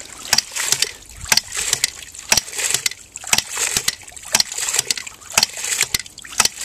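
Homemade water ram pump running with water in its outside pipe, giving a steady rhythm of sharp clacking pulses about twice a second over a soft watery wash, close and fairly loud with no talk.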